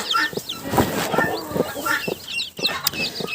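Broody hens clucking and chirping close by, repeated soft calls with high peeping chicks and guinea keets scattered throughout, no talking.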